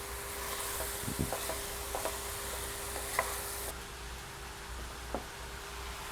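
Okra cooks in a pot with beef, garlic and seasoning for a stew, a soft, steady sizzle broken by scattered clicks and scrapes of stirring, with no voices.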